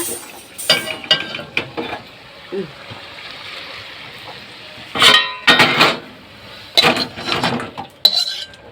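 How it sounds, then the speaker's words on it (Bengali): Braised meat is tipped into a pan and cooked, with bursts of scraping, splattering and clattering metal close up, mixed with a voice talking. "এবারে আমি কষা মাংস আর ঢেলে দেব"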